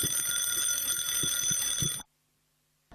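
A bell rings loud and continuous for about two seconds at a greyhound stadium ahead of a stakes final, then cuts off into silence.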